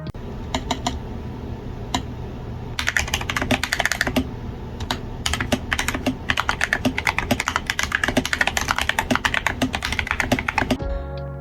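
Steady, fast typing on a stock GMMK 2 65% mechanical keyboard, close and clacky, with dense bursts of keystrokes and a few isolated presses before the rapid run, no talking.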